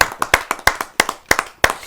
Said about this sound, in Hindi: आइए जोरदार तालियों सुनकर स्वागत